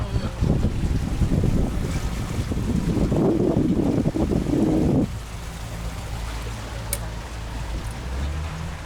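An idling outboard-style motor on a tour boat leaving a yacht club in Singapore rumbles low and steady under heavy wind buffeting, then drops to a quieter, smoother hum partway through.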